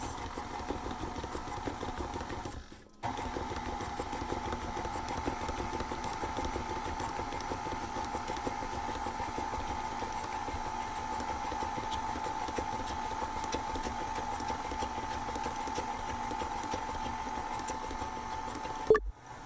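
Stand mixer with a paddle attachment slowly mixing batter for zucchini bread and muffins, a steady mid-pitched motor whir with a rhythmic churn, continuous and close for about nineteen seconds apart from a brief stop near the start.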